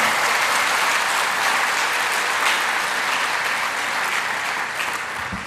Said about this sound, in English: So ladies and gentlemen, a big clap for Roshni Nadar.